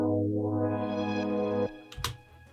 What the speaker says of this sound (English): So I did a quick filter sweep here, a low pass sweep